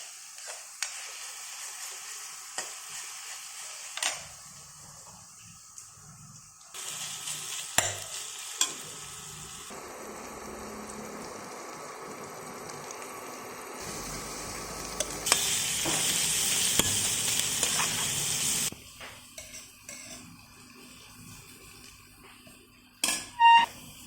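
Chicken curry ingredients sizzle and fry in a pan while a utensil stirs and scrapes, with a louder hissing burst partway through; no one speaks.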